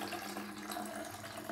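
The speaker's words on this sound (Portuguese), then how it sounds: "Vou colocar no borrifador essa água." Strained water for a homemade natural plant-rooting solution is poured into a spray bottle. A faint, steady trickling rush runs continuously for the whole short moment, with no voices.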